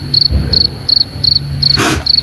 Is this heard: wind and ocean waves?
no